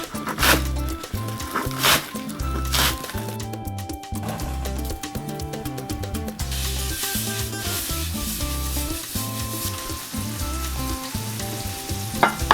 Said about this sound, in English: Give that a stir, a final stir, until we can pour it onto the frying pan.